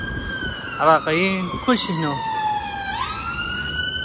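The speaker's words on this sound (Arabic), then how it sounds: "هاي الاسعاف بلندن تسمعها باليوم 7-8 مرات وكل مكان." An ambulance siren wails on a London street, its rising and falling tone prominent and close, while someone talks over it.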